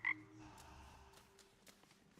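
A frog familiar in the video game Hades 2 gives a single short croak at the start, followed by quiet, sparse game ambience.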